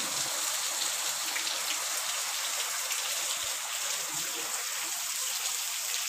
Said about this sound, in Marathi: खूप पाऊस आलाय